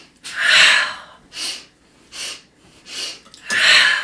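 Breathing exercise in a meditative posture flow: quick nasal sniffs and fuller breath-out exhales come as separate airy bursts with quiet gaps between them, close and clear, with no talking.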